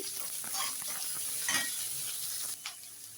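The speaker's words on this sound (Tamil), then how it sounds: "அது வெங்காயம் நல்லா வதங்கட்டும்" Onions and curry leaves sautéing in a pan for poori masala, a quiet, constant frying hiss with a few soft stirring scrapes and clinks.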